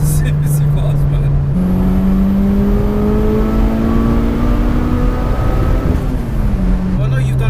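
A 720bhp Mitsubishi Evo VII accelerates hard, its engine note climbing steadily through the gears with a loud, continuous roar and brief pitch drops at shifts, heard from inside the car with a voice faintly under it.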